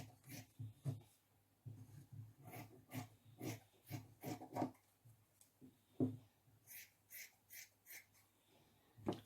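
Scissors snip through dress fabric in a steady series of short crunching cuts, close up and moderately quiet, with a brief pause partway and no voices.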